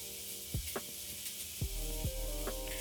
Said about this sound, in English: place the skewers in the pan. Listen to that sizzle.